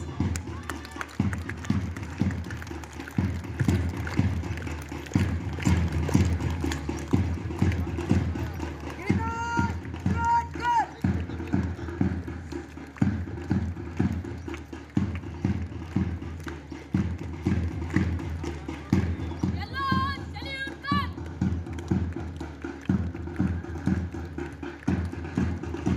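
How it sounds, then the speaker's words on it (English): An audience at a school celebration in Bijapur, Karnataka claps in a steady rhythm for performers, the clapping continuing under singing and voices. "Give them a big applause."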